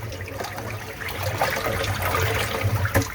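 Water drains from the bottom valve of an aquaponic filter with stirred-up debris, a continuous gurgling, splashing flow close by and fairly loud, with a few sharper splashes toward the end.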